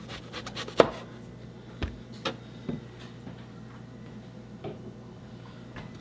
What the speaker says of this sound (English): now I'm going to slice them into 1/2-inch slices